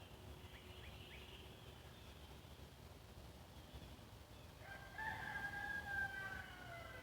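A rooster crows faintly from far off near the end, a short call rising over a low, steady outdoor background hum.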